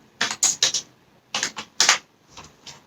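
Someone types on a computer keyboard at a terminal, producing two short bursts of crisp, close key clicks separated by a brief pause, with no speech.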